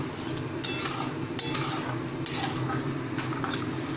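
Spice paste stir-fried in a wok over full gas flame, a continuous loud sizzle with repeated scraping and clanking of a spatula against the metal pan every second or so.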